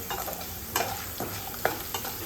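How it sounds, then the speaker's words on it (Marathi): Potatoes frying in a pan give a steady close hiss and crackle, while a utensil scrapes and turns them now and then in soft strokes, with no voices. "आता बटाटे छान तळले गेलेले आहेत"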